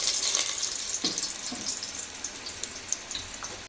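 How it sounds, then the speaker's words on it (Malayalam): About two spoons of ghee heating in a pot for biriyani, giving a steady bright sizzle with a few small pops and crackles, close and fairly loud, with no one speaking. "ഇതിലേക്ക് ഒരു 2 സ്പൂൺ നെയ്യ് ഒഴിക്കുന്നു"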